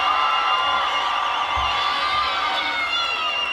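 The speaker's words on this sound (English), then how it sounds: "they're in front of a home crowd cheering them on" A home crowd at a gymnastics regional final keeps up loud, continuous cheering and high-pitched shouting, with a couple of low thumps beneath the roar.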